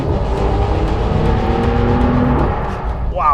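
A new Porsche 911 GTS's flat-six engine revs hard and climbs in pitch as it drives on a South African road, loud and close, with the tone dropping briefly near the end.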